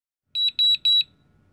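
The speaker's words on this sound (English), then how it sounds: "If the lux detector beeps at least 3 consecutive times" Three sharp, high electronic beeps from a lux light detector in quick succession, each short and evenly spaced, then silence.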